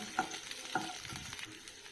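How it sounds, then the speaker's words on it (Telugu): Coriander seeds dry-roast with drumstick leaves in a pan, giving a faint, soft crackle with two light clinks of a spoon near the start. "ఇప్పుడు 1 టీ స్పూను ధనియాలు వేసుకుంటున్నాను, వేయించుకుంటున్నాను"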